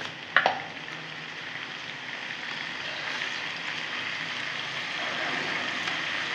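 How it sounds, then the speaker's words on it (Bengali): Vegetables, including sweet pumpkin, frying in a pan with turmeric, a steady soft sizzle that swells slightly, with a brief clink near the start. "আমি একটু ওগুলো হলুদে একটু ভেজে ভেজে নেব।"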